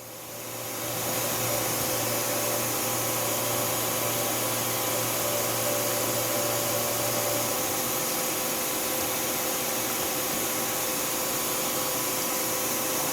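A 2011 Tsugami S206 Swiss-type CNC lathe spindle spinning at 7,000 RPM, a loud steady high whine and whirr that holds evenly for the full stretch, with a lower hum dropping away partway through.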